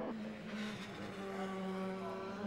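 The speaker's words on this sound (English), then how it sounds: "Ahead of us is Gary Woodcock in his Honda" Touring cars, including a Honda and a Cavalier, race at Brands Hatch with close, loud engine drone and rising revs as they pass, the pitch climbing through the gears.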